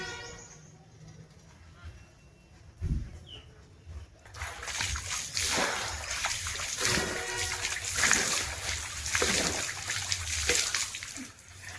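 Water splashing during a bath at home, with a soft low thump, then continuous close splashing and pouring water from about the midpoint onward, broken by irregular louder splashes.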